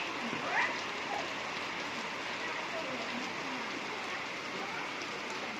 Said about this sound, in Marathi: लईच पाऊस आलाय